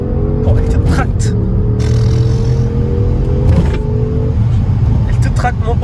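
An Audi S7 pulls hard from inside the cabin, its engine droning and rising in pitch under loud conversation between occupants, with a few clunks along the way.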